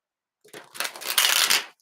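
A deck of tarot cards being shuffled by hand, a close, crisp riffling flutter lasting just over a second after a few soft taps, with no talking.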